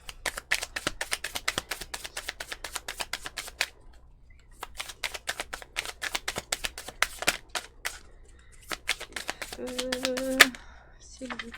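Oracle cards shuffled by hand in rapid crisp riffling bursts, close and fairly quiet, with brief pauses and a short voiced sound near the end.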